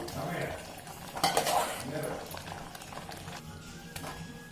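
Cooked rice goes into a pot of sweet pongal with clinking spoon-on-metal knocks and a scraping stir, loudest in a brief burst early on and then softer, quiet mixing.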